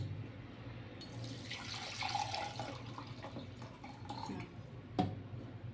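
Salt-and-sugar yogurt sherbet, a lassi, is strained through a sieve into a bowl, giving a steady trickling and splashing of liquid with a brief sharper clink near the end, close and moderate in volume.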